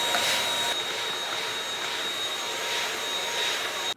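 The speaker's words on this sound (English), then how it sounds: "Vacuuming off all the foam that's attached to it" A vacuum cleaner roars steadily and close as it sucks foam off plywood from yacht upholstery, a continuous high whooshing drone for the whole stretch.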